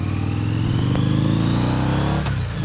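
A Harley-Davidson V-Rod motorcycle engine runs steadily and loudly up close, holding a deep, continuous idle with a slight shift in pitch near the end.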